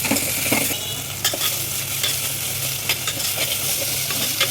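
Browning onions with a spoon of ginger garlic paste and salt stirred in a pan, a loud continuous fry and sizzle with repeated scraping strokes throughout.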